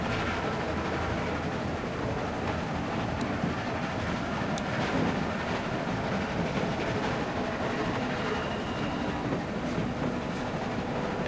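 A train rolls steadily in The Walking Dead game, a continuous dense rumble and rattle with faint clickety-clack and occasional metallic ticks, loud and unbroken throughout.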